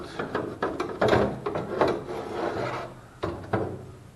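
A car window regulator scrapes and rasps as it is slid out toward the back of a door panel, with repeated close rubbing and grinding strokes and a few sharper knocks.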